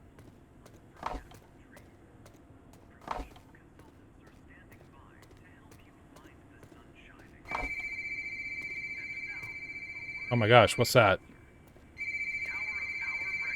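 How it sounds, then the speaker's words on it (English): A steady electronic telephone ring sounds twice in long tones after a few sharp thumps in the video game Dreamcore: Rabbit Hole, with a person briefly speaking in surprise. "There's a phone ringing."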